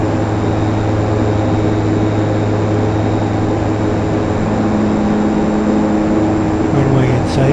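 Simulated engine drone of an aircraft on a night landing approach in FSX, a continuous steady hum with sustained tonal bands, loud and unbroken throughout, with no talk.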